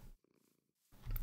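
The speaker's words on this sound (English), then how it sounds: "Behold, a cat." A cat in a video game purrs softly, a short rhythmic vibrating pulse heard alone in a quiet gap between louder sounds.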